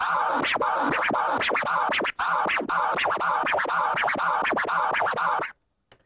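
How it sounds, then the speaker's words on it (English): Loud turntable scratching, a tear scratch with choppy split strokes in a steady rhythm, a brief gap midway, then an abrupt stop. "the tear scratch, which sounds something like this."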